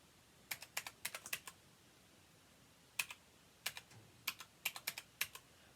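Bursts of quick keyboard keystrokes, a flurry of clicks followed by a pause and then several more short runs of typing, close and crisp.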